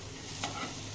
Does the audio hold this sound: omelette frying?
yes